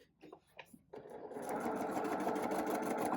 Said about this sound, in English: Let's go to the machine. And we're gonna add our stitches here.